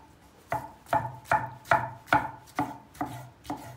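A knife chops tomatoes on a cutting board while ingredients are prepared for an oil-free eggplant moussaka, with about eight crisp, evenly spaced strokes close up and no talking.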